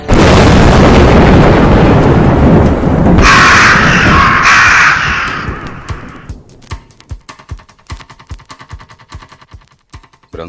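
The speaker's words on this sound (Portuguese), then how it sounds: "Que corvo." Crow cawing rings out amid a dense, loud wash of booming, burst-like noise, which then gives way to quieter, evenly spaced ticking clicks.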